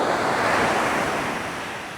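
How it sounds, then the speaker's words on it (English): Calm surf breaks on a steep-shelved beach on California's north coast, a soft continuous rush of waves with some wind buffeting the microphone and no one talking. "And man, it's just so calm. Look at that. That's a calm ocean."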